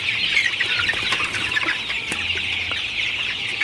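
Sonali super hybrid chickens, 36 days old, cluck steadily in a poultry shed on a hot, humid day, a dense continuous chorus of many birds with scattered sharper calls standing out, no voices.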